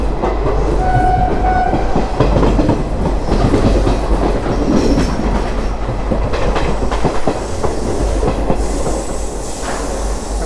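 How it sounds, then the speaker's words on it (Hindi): A local train runs along the rails through Delhi toward Gurugram, a loud steady roar with rhythmic clatter of wheels over joints and a brief high whistle-like tone near the end. "ट्रेन अब यहाँ से राइट लेती है।"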